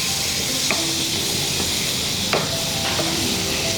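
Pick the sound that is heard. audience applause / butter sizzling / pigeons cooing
butter sizzling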